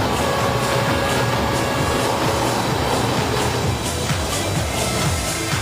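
Gatimaan Express high-speed train running between Delhi's Nizamuddin station and Agra Cantt, a steady loud continuous rumble and rush of rail noise with faint rhythmic wheel clatter throughout.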